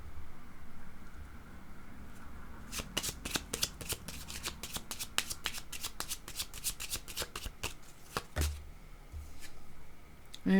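A deck of playing cards is riffle-shuffled close by, a rapid flurry of crisp clicking flicks bunched together in the middle, with quieter handling noise before and after.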